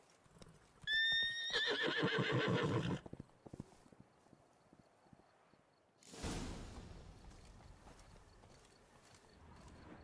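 Roach, a horse in a video game, gives a loud, close, high whinny, followed by a short run of hoof clops, then quiet, and later a broad rushing swell of ambient noise.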